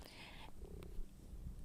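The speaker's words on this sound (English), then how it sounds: "I have another cat currently purring right next to the microphone" A cat purrs right beside the microphone, a soft, low steady rumble that continues through the whole short moment, faint and close.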